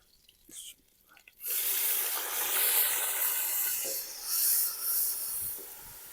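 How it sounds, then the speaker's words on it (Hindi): Water poured into a hot pan of frying ginger garlic paste and onions bursts into a loud, sustained sizzling hiss that swells and fades in waves, following a few quiet kitchen clicks. "और थोड़ा पानी शामिल करेंगे।"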